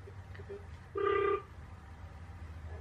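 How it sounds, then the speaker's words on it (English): A short electronic tone from a phone while a call is being dialed, a single steady beep lasting under half a second over a quiet room hum. "then I can give them a phone call quickly."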